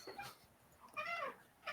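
A dog gives a few short high yips or whimpers, brief and moderately near, with quiet gaps between them and no one speaking over them.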